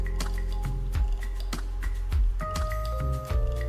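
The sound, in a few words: lime juice being squeezed and poured into chicken perattu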